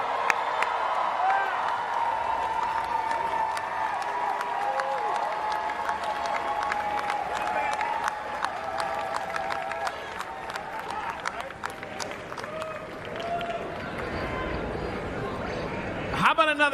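Convention crowd at an LA Comic Con Star Wars panel applauding and cheering for actress Ming-Na Wen, a continuous wash of clapping and whoops with a voice talking over it.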